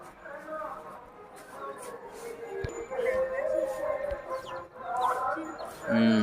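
Chickens cluck nearby while being fed rice, several people talking over them, with occasional sharp knocks.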